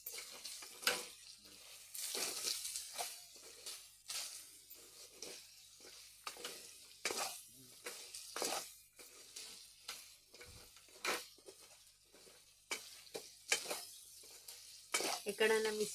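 Chicken pieces with chili powder and other spices are stirred in a pan for Sunday chicken roti, with repeated scraping strokes over a steady sizzle, close and fairly loud, with a brief voice now and then.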